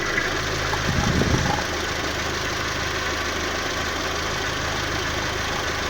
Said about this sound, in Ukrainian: Показую роботу двигуна.